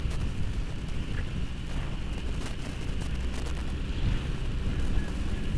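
Cold wind rushes past while riding a Fazzio scooter, producing a steady, loud, broadband roar of buffeting air across the microphone with no let-up.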